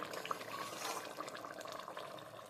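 Katla fish kalia gravy with fried fish pieces simmers and bubbles in a pan, a soft, close burble of popping bubbles, fairly quiet and without talk.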